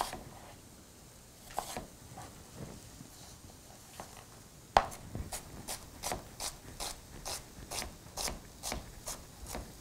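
A knife chops strawberry peach salsa ingredients on a cutting board. After a sharp knock come faint, quick, evenly spaced chops in a steady rhythm.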